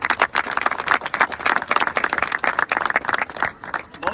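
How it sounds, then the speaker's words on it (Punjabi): A crowd claps in honour of the late runner Sardar Fauja Singh at a 10 km memorial run, a dense, loud, continuous burst of applause with no voices over it. "ਸਰਦਾਰ ਫੌਜਾ ਸਿੰਘ ਦੇ ਨਾਮ ਦੀ ਇੱਕ ਤਾੜੀ ਲਾਈਏ"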